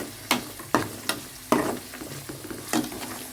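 Leafy greens (palak) stirred and frying in a pan for mutton curry, giving faint sizzling under four or five distinct scraping stir strokes spread irregularly, close and fairly quiet, with no talk.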